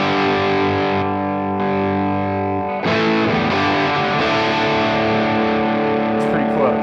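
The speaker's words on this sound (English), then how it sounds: "So the pre-gain is kind of that distortion sound." Heavily distorted electric guitar chords through a distortion pedal ring out, sustaining thickly, with a new chord struck midway and fading into noisy feedback.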